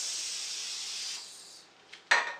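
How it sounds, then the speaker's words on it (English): Olive oil cooking spray hisses onto a hot pan in one long steady burst that fades out, followed by a short puff and then a sharper, louder spritz at the end. "Spray it down with some olive oil,"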